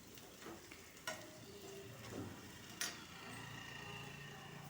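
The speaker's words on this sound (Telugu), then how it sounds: "ఇగో చూడండి పోపు వేగుతుంది కదా." Spices for a tempering sizzle in hot oil while being stirred for a brinjal and potato curry, a steady quiet crackle broken by a couple of sharp scraping clicks of the spoon.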